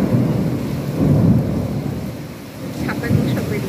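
A thunderstorm rolls through with heavy rain: deep rumbles of thunder swell and fade in waves over a constant wash of falling rain, loud and close.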